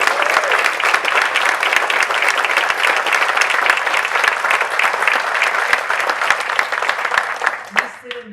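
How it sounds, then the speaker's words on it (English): A big round of applause fills the hall at a college alumni awards ceremony, dense steady clapping from the audience for several seconds before dying away as a voice begins. "why don't you stand and get a round of applause?"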